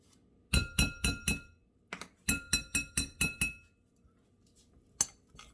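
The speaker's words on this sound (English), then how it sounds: "I'm going to mix that in." A spoon mixes mayonnaise into chicken salad in a bowl, clinking sharply against the dish in two quick runs of four and five strikes, then a lone clink after a pause.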